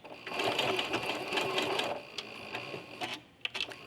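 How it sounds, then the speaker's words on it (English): A sewing machine runs a short burst of back stitches on quilt binding, a close, steady mechanical whir for about two seconds, followed by a few small clicks and taps. "I'm going to do a couple back stitches to secure my thread."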